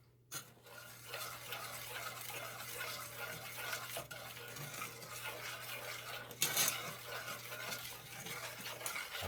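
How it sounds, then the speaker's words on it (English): A spoon stirs butter and heavy cream melting together in a pot, with soft scraping and light clinks against the pot over a steady low hum, no speech. "As the butter dissolving, we're gonna keep stirring it."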